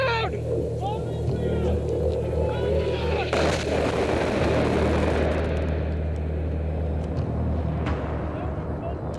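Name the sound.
incoming bombs and artillery explosions in combat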